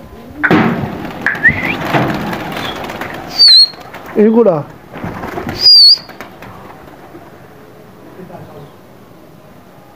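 Pigeons perched outdoors, a few short soft coos and wing or body rustles close by, heard between and under a man's speech in a quiet setting.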